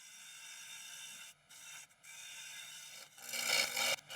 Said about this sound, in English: I'm just going to finesse that undercut using a carbide